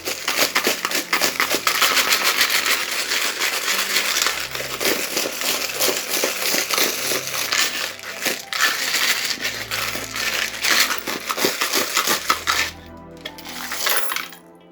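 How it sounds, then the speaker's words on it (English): A handful of small metal oracle charms are shaken and rattled, then cast out, producing a long, close stream of jingling, clinking and scraping that ends in a few scattered clinks. "So this is the noisy bit. I'm just going to give them a shake and then we'll cast the charms"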